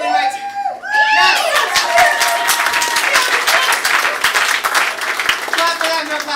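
An audience at a student improv showcase breaks into loud, sustained applause with cheers and whoops, following a few shouted words and continuing steadily to the end.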